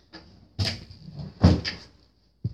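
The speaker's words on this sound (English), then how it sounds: "Just shut my bedroom door" A bedroom door is pushed shut indoors, with a couple of soft knocks and rattles of the latch and then a final close thud, all near and fairly quiet.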